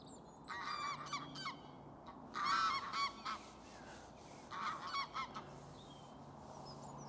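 Geese honking at a carp fishery lake, several loud bursts of calls coming in irregular clusters over a quiet outdoor background, with no one speaking.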